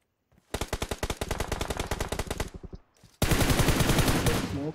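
Automatic gunfire in the mobile shooter PUBG Mobile: a rapid, loud burst of evenly spaced shots, a short pause, then a second, denser and even louder stream of fire.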